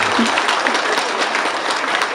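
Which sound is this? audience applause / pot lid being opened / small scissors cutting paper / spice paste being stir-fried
audience applause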